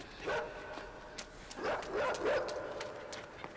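A dog in a video game barks and yips in several short bursts, a first call then a pair of quick barks later on, with a whimpering tone, fairly close and clear over a quiet background.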